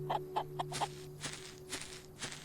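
Farm chickens in the video game Solarpunk give a quick run of four faint, close clucks, followed by softer, scattered clucking over a low steady hum.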